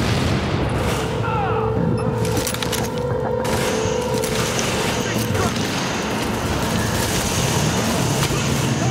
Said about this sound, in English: how many grenades do these people have?